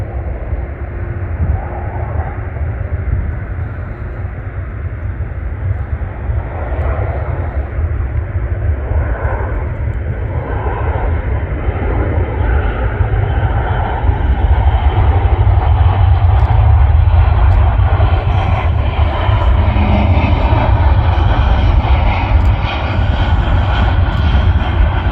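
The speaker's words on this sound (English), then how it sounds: "We've got Ryanair coming in again." A Ryanair airliner on landing approach at Manchester Airport, its engine roar a steady, loud broadband rumble that builds gradually over the whole stretch, heard from an outdoor viewing park with no talking.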